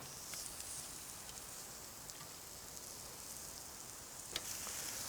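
Constant soft sizzling and crackling, like meat searing over a fire, with occasional small pops and no talking.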